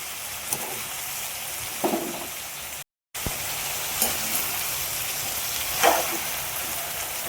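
Ingredients fry in a pan with turmeric, salt and chillies while being stirred, giving a soft continuous sizzle broken by a few spoon scrapes and knocks, close by, with a brief silent gap midway and no talk.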